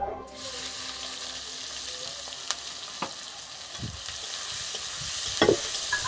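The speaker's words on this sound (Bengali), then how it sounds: "এবারে আমি এই তেলের মধ্যে আরো সামান্য তেল দিয়ে দেব, আর দিয়ে দেব পেঁয়াজ কুচি" Chopped onions fry in oil in a pan while cooking a fish-head curry, a steady soft sizzle with occasional clinks and scrapes of a stirring spoon, close and unaccompanied by speech.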